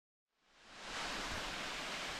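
A waterfall in the bush on Mount Te Aroha rises from silence into a steady, broad rushing roar that holds evenly to the end.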